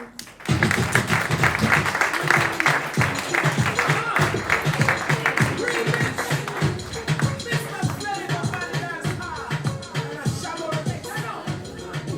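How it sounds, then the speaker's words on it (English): Audience at an awards night breaking into sustained applause, a dense wash of clapping with some voices mixed in, steady for about twelve seconds before easing slightly. "Another round of applause."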